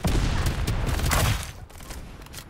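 Rapid gunfire fills a firefight in the shooter game Farlight 84, with dense overlapping shots and booms that stay loud for over a second before easing into scattered, quieter bursts.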